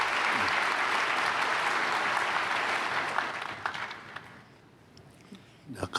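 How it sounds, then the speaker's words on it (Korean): A church congregation bursts into loud, dense applause during a Sunday worship service. The clapping holds strong for about three seconds, then fades and thins out toward the end. "박수를 한번 맞이하겠습니다"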